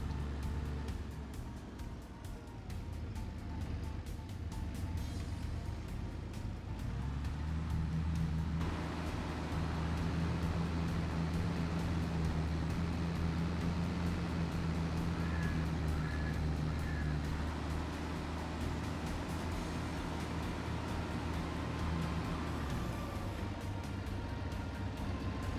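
A tractor pulls a full trailer across a field in Farming Simulator 22, giving a steady, droning engine hum that rises and deepens partway through and then holds evenly.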